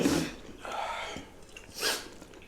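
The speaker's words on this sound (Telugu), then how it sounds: "మసాలా కట్టి మనకు తుమ్ము వచ్చేసింది" A person sneezes twice, set off by spicy masala: a sharp burst at the start and a second about two seconds later, with a snorting breath in between.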